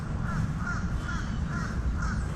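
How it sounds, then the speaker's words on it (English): Crows cawing in a well-kept cemetery, a run of five or six evenly spaced harsh caws at moderate distance over a steady outdoor background hum. "The birds are talkative today."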